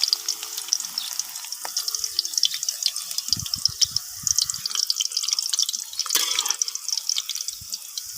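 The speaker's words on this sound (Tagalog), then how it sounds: "nilagyan ko na ng mantika. Lalagyan ko siya ngayon ng sibuyas at bawang" Onion and garlic frying in cooking oil, a close, steady hiss and crackle with scattered sharp pops and a few stirring scrapes, no voices over it.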